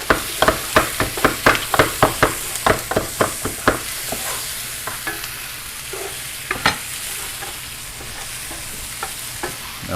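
Winter squash stirred in a frying pan: a quick series of scraping, clattering strokes of a utensil, then quieter occasional scrapes over a constant close sizzle.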